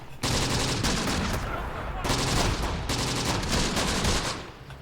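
Sustained, dense gunfire from units in the WWII strategy game Close Combat, desert warfare with tank destroyers nearby: continuous loud rattling bursts and overlapping shots with brief lulls, under a voice.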